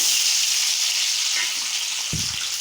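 Two tomatoes fry in a little oil in a pan for a tomato curry-leaf chutney, giving a continuous loud sizzle and hiss with a brief clatter of a utensil near the end.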